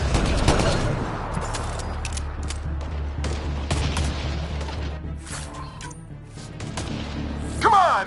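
Enemy gunfire crackles through a video game battle, with repeated sharp shots and bursts over a steady low rumble, a sudden loud burst arriving near the end.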